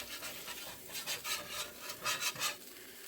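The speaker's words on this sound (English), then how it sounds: "That's why I'm scraping along, because I'm trying to get under the edge of it" Metal spatula scraping across the smooth cooking surface of a Smithey Farmhouse cast iron skillet, rough rasping strokes in several close bursts, with a brief lull and then a couple more firm scrapes.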